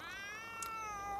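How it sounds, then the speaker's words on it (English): A domestic cat gives one long, drawn-out, tonal meow with a falling pitch. It sounds faint and somewhat distant, with no speech. "Crazy cat."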